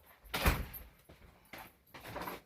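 A door opened at home to let a dog in, with a few soft knocks and slides of the door in short bursts, faint and close.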